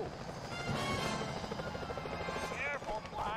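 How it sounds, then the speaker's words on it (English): A security chopper in Sly Cooper: Thieves in Time on PS3 whirs with a rhythmic rotor chop, layered under game music and effects, with a voice speaking briefly. "Those security choppers are bad news."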